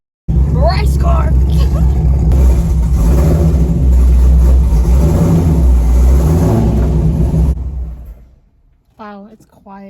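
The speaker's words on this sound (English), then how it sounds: "Race car." A Camaro engine revs hard and loud up close for several seconds at a steady high roar, then drops away toward a quiet idle, with a brief voice at the end.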